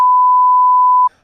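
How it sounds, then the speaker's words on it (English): A censor beep covers a swear word: one steady, pure electronic tone about a second long, loud and close, cutting off abruptly into near silence. "I can beep every mother cuss word that I say"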